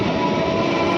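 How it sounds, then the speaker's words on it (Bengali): A train rumbles steadily past close by near Pandua station, a loud, continuous rolling roar with metallic rail noise throughout, and no voices. "এত ট্রেনের আওয়াজ সবসময়।"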